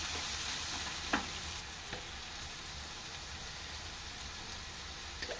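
Chickpea curry in a pan gives a faint, even frying hiss throughout, with two or three light spoon taps against the pan, quiet and close.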